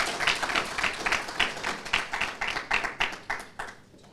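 An audience at an opening ceremony claps, the sharp slaps coming in a fairly regular, rhythmic pulse, moderately quiet and with no clear talk over them.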